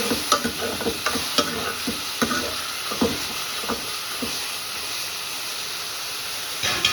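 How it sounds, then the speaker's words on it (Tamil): Okra being sautéed with salt in a pan: a soft background sizzle and hiss, punctuated by repeated scraping and clacking strokes of a spatula stirring, close by, with no voices. "உப்பு போட்டு நல்லா வதக்கணும்"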